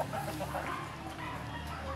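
Chickens feeding on a corn meal mash, with soft, scattered clucks and low murmurs close by over a steady rustle of pecking and farmyard ambience.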